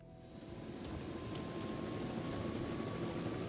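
Helicopter flying in a Turkish-language mobile video game, heard as a steady, broad rotor and engine drone that swells slightly at the start and then holds even for the rest, with no talk over it.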